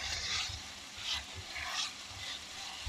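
Meat browning in a hot pan gives a steady, faint sizzle and crackle, with soft stirring scrapes rising and falling every second or so, and no talk over it.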